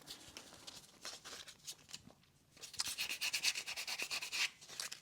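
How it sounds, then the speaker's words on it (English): Close sanding of a clay character sculpture's head, a steady run of dry, scratchy rubbing strokes with a brief lull midway, then brisker, louder passes toward the end. "getting it sanded up and smoothed up nice"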